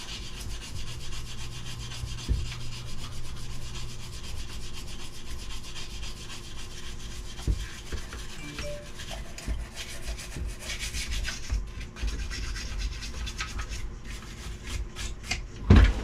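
A brush scrubs a chainsaw, steady scratchy rubbing close and continuous, with occasional harder knocks and scrapes and no talking.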